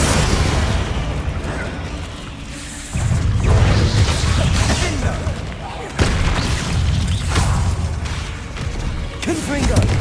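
Bombarda blast spell going off in Hogwarts Legacy, heavy booming impacts and crashing bursts that land repeatedly through a loud, dense battle mix.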